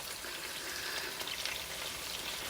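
Pork chops frying in a pan, a steady dense sizzle and crackle that stays even and continuous throughout, close and full.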